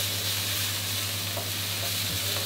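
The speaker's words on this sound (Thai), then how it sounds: "ผัดให้ถั่วงอกหอมนะครับ" Bean sprouts stir-fry in hot oil in a pan for an oyster omelette (hoi tod), giving a steady, loud sizzle with light scraping of the spatula throughout and no talking.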